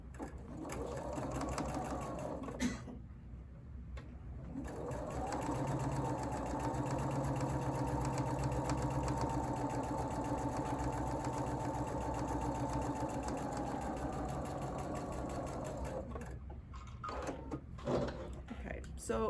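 A sewing machine with a worn needle runs in a long steady burst, its chunking mechanical rhythm close and prominent, with brief pauses at the start and end and some talking over it.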